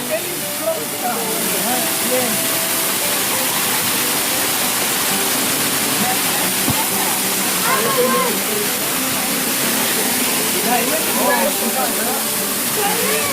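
Kalidonia Waterfall on a forest trail near Platres in the Troodos mountains roars with a constant, loud broadband rush of falling water, while people talk faintly nearby.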